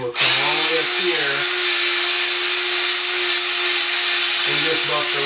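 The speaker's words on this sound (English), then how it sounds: "put it in your drill, get your arm in your boot" A power drill spins a buffing tool against a leather boot with a steady, high-pitched whine that runs almost without a break.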